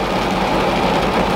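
Rain falls on a parked car in a dense, loud, unbroken roar of drops, with nothing else heard.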